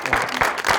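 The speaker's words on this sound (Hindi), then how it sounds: "बहुत सारी तालियां उस्मान भाई के लिए।" A studio audience at a Pakistani television talk show bursts into brief, loud, dense applause lasting under a second.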